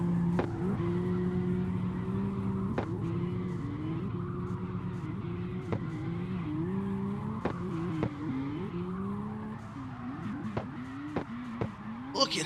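A Toyota Supra drift car screams through a racing video game at Irwindale, its engine pitch climbing and dropping with each shift under steady, sliding tire noise, with sharp clicks and scrapes scattered throughout.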